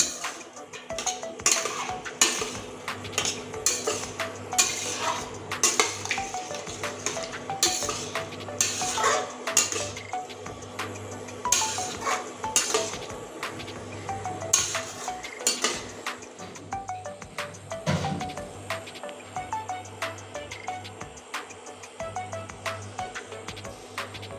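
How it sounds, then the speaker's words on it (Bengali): Ghugni peas curry with spices being stirred in a pan, a spoon repeatedly scraping and clinking against the metal in an uneven rhythm over a faint sizzle, close and fairly quiet with no talking. "এবার দেখুন মশলার ভিতরে ঘুগনি পড়ে গিয়েছে এবার সুন্দরভাবে নেড়ে নেবো"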